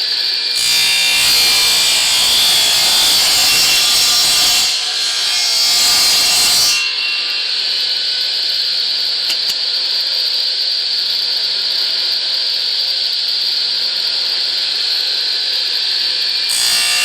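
A blue plastic barrel is cut into 3-inch strips with a loud, continuous power-tool roar. It shifts in tone partway through and then settles into a steady high whine.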